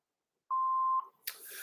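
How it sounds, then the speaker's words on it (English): An answering machine sounds a single clear, steady electronic beep lasting about half a second before the message begins, followed by a faint rustle of line noise. "Please leave your name and phone number after the beep."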